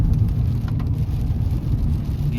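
Rain falls on a road during a motorbike trip through the Agumbe ghat area, with passing vehicles adding a low, steady rumbling wash; the sound is continuous and fairly loud, with no talk.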